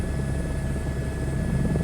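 A helicopter in a flight simulator video game gives a loud, steady rotor drone with a constant engine whine, heard close with no talk.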